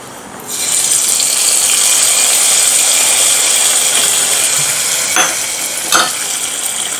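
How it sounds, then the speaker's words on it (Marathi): Hot oil tempering with curry leaves and two dry chillies is poured into mango curry, giving a sudden loud sizzle that holds steady for several seconds, broken by a couple of sharp clinks. "हा तडका आपण आंबा करीवर घालूयात"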